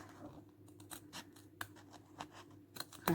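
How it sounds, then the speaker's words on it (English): Scissors cut a slit in fabric for a double welt pocket, a series of faint, close, crisp snips in quick irregular succession over a quiet room hum. "Make a slit in there to start off, then I'll open it up"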